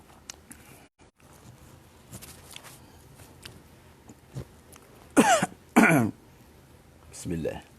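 A man coughs in two loud, close, harsh bursts, followed by a softer throat-clearing cough, with quiet shuffling and faint background noise in between.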